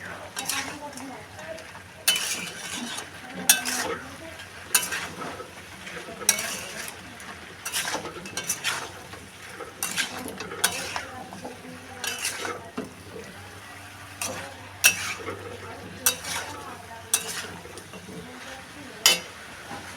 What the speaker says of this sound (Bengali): এবার এদিকে নাড়বো